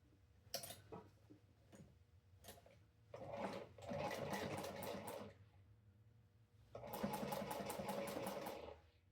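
A sewing machine stitches a seam on a crossbody bag in two bursts, each a whirring mechanical run of rapid needle strokes, separated by brief pauses and a few clicks, close and fairly quiet.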